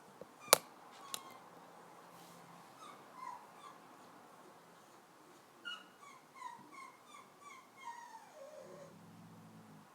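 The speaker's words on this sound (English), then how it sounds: "That's my dog making weird noises, and Olivia's growling at him." A dog makes a string of high, wavering whimpers and yips in a quiet room, faint to moderate, after a couple of sharp knocks near the start, ending in a lower drawn-out whine.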